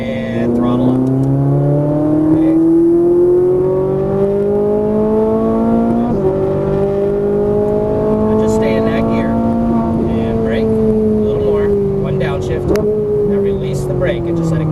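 A Ferrari 458 Italia engine on a racetrack revs loudly and up close, its tone climbing through gear changes with brief dips between pulls as the car accelerates.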